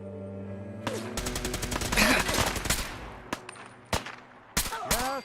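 Gunfire in the game Fallout 4, rapid automatic shots in a burst followed by several sharp separate cracks, loud and close amid combat noise.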